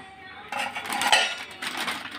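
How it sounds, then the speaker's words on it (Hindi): Beaten yogurt is transferred into a metal vessel for boondi raita, with clinking of a utensil against the pot and scraping metallic rattles, close and continuous with no talk. "और अब हम इसको निकाल लेते हैं बर्तन में।"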